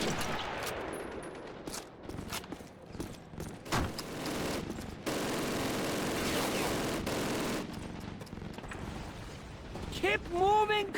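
MG42 machine gun bursts during an assault on the Reichstag in Berlin in the World War II shooter Call of Duty, with rapid automatic fire in several bursts mixed with other battle noise, explosions and voices.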